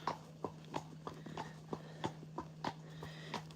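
Hooves of Anja, a ridden horse out on an early-evening hack in Cartmel, clip-clop in a steady walking rhythm of sharp, fairly close knocks over a constant low hum.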